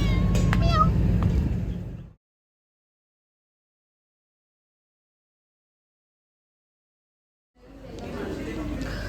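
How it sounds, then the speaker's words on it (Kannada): A fat cat meows a few times near the start, then the sound drops to silence before background noise and voices return. "ಎಷ್ಟು ದಪ್ಪ ಇದೆ ಗೊತ್ತಾ ಈ ಬೆಕ್ಕು"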